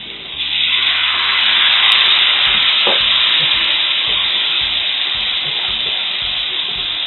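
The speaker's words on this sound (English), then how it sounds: "So now the oil is heated, so I'll just add in my rice." Rice dropped into heated oil for a soya lunch dish, bursting into a loud, continuous sizzle with stirring scrapes and crackles close by.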